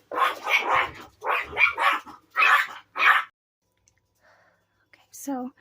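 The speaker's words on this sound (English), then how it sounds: "My mom's dogs were fighting over a bone, so I had to pause the video." Several dogs snarl and bark in a scuffle over a bone, heard in quick bursts up close with a brief gap before a final yelp-like cry; no one speaks.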